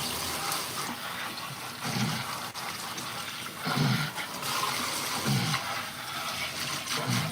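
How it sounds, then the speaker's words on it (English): Continuous rushing water from a tap fills the clip, with muffled thuds and splashes as something is rinsed beneath the stream, close by. "Cold water rinse, guys."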